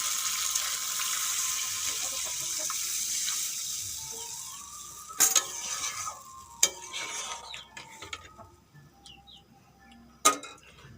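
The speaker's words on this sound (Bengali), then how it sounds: "মশলা দিয়ে আলুগুলো কষানো হয়ে গেছে এখন দিয়ে দেবো নারকেলের দুধ" Coconut milk goes into a pan of sizzling spiced potatoes, so a strong hiss fades to a softer bubbling, punctuated by a few sharp metallic clinks and scrapes of a utensil; no talk.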